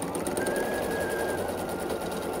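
Sewing machine stitching across the edge of a blue and pink half square triangle quilt block, a fast steady whirring needle run, close and fairly quiet.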